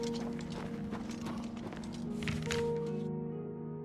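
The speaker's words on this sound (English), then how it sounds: "Yep, they're just random horses." Horses' hooves clip-clop on ground in the game Oblivion Remastered, a steady run of clear hoof strikes over a constant ambient bed of game music, with no talk.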